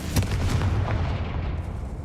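A fiery Confringo spell blast in Hogwarts Legacy, a booming burst with a short crackling impact that rumbles and fades over about two seconds.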